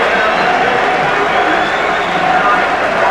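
A 30,000-strong rugby league stadium crowd in 1989, Widnes against Canberra, roars and cheers in a loud, sustained wall of appreciation with no break throughout.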